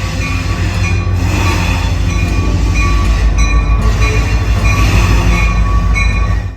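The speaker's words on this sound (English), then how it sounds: "Stepping out of the Roundhouse into the yard, we saw this train arriving." A loud train rolls into the B&O Railroad Museum yard close by, wheels squealing and rumbling heavily, with a steady metallic drone throughout and no voices.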